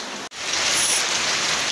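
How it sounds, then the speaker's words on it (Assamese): Steady rain falls on a rainy morning, a dense, even hiss of drops on surfaces that continues unbroken after a brief cut at the start, with no voices. "মই দেখুৱাই দিছোঁ বৰষুণটো এৰা নাই গাইছ"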